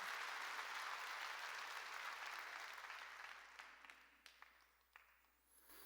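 Church congregation applause during a sermon, a full wash of clapping that fades over several seconds into a few scattered individual claps near the end.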